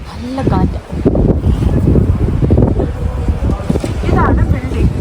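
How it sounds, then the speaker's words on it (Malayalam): Strong wind gusts outdoors near a metro station, a loud continuous rush buffeting the microphone while people talk over it. "കാറ്റടിച്ചിട്ട് അതികഠിനമായ കാറ്റാണ്."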